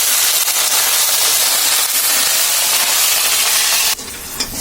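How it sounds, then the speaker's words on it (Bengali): Shrimp frying in a pan with ginger, a loud, dense, continuous hiss and sizzle very close up, dropping abruptly to a quieter sizzle near the end. "আর চিংড়ি মাছগুলো ভালো করে আমরা ভেজে নিব"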